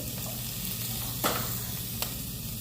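Curry leaves and garlic sizzle in hot oil for a brinjal and drumstick kara kuzhambu, a steady close hiss with a couple of brief sharp crackles.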